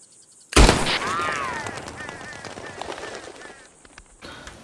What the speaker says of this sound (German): Und als erstes eine kurze Szene mit dem Kettleman Revolver.